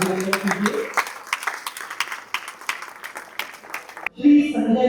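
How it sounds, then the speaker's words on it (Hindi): Scattered clapping from a festival audience rises and thins over a few seconds, then a voice speaks briefly near the end. "जोरदार तालियों के साथ अभिनंदन कीजिए"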